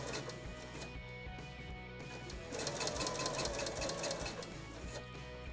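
A sewing machine runs in quick rhythmic bursts, stitching a narrow rolled hem on black chiffon with red thread against a BanRol comb stabilizer; the whirring gets louder and denser partway through.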